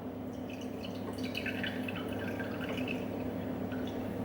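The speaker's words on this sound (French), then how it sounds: "Il faut juste que je mette de l'eau." Water poured into a cooking dish gives a continuous soft splashing trickle over a steady low background hum, lasting the whole few seconds without a break.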